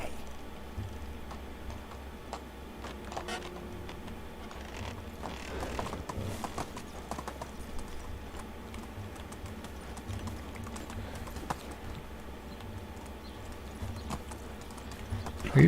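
A horse's hooves clip-clop at a steady walking pace in the medieval village game Medieval Dynasty, an even run of soft clicks over a low background bed, quiet and continuous.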